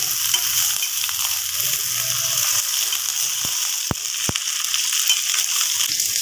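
Okra and potatoes fry in a pan in an even, continuous hiss of sizzling oil. A few sharp clicks break through near the middle, and the frying stays close and steady throughout, with no talking.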